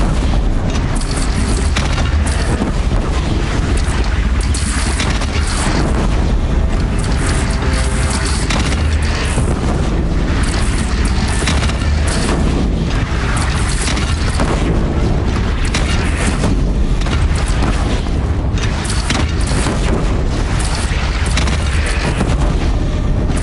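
A lone cannon fires in a Horizon Zero Dawn battle against a bandit clan, its deep booms merging into a dense, continuous roar of combat noise throughout.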